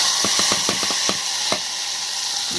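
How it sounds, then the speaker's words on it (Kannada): Cashews and almonds frying in a pan, a steady sizzle with a quick run of sharp clinks from stirring in the first second and a half, then a softer continuous hiss alone. "ಗೋಡಂಬಿ ಮತ್ತು ಬಾದಾಮಿ ಫ್ರೈ ಮಾಡ್ಕೊಂಡು ಸ್ವಲ್ಪ ಲೈಟ್ ಕಲರ್ ಆಗಂಗೆ ಫ್ರೈ ಮಾಡ್ಕೊಳ್ಳೋಣ"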